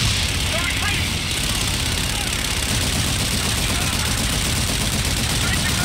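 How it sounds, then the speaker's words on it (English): An aircraft gun run in the video game Call of Duty Infinite Warfare: a sustained, loud, unbroken roar of rapid cannon fire mixed with engine drone, steady for several seconds. "Guns, guns, guns!"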